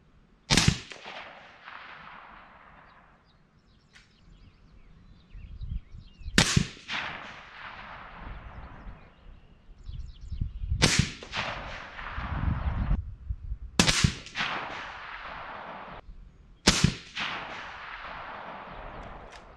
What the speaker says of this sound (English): we're shooting a rifle